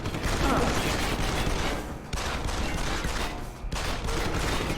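Rapid video game gunfire from Deus Ex: Human Revolution, loud dense bursts filling the clip with a couple of brief gaps, and mechanical clatter mixed in.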